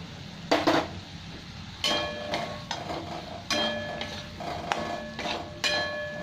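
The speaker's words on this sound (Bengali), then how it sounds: "এবার এই পেঁয়াজগুলো আমি দিয়ে দিলাম।" Onions tipped into a pan of hot oil and spices bring a few sharp metallic clatters of utensil against pan over a low, constant frying sizzle.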